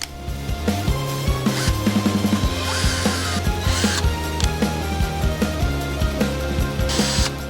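A power drill whirs steadily and close by, its motor hum rising and dipping with short bursts as the bit bites into a C5 Corvette's metal body panel.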